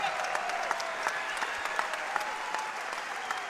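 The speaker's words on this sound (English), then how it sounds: "a round of applause for Steph Smith coming to the bench" A crowd at an NCAA men's college basketball game between Siena and Vermont claps steadily in a dense, even patter of applause, moderately loud and sustained throughout, with a commentator's voice faintly underneath.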